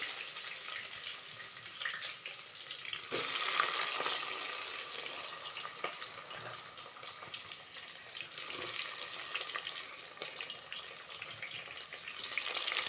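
Onions hit a pan of spices with cloves and cinnamon, frying for egg biryani. A soft, steady sizzle with a watery hiss swells and fades in gentle waves, fairly quiet and close, with no talk.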